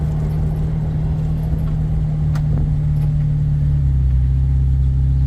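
A 1995 Jeep Wrangler S with a manual transmission pulls away in first gear, its engine droning steadily at mid pitch before the tone drops lower and heavier as the gear changes, close and constant throughout.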